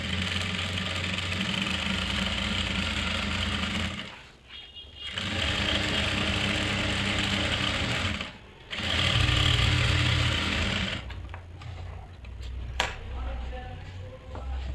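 A domestic sewing machine runs steadily through salwar fabric in loud, close stitching bursts, pausing briefly around four and eight seconds before resuming and then breaking into shorter, uneven runs.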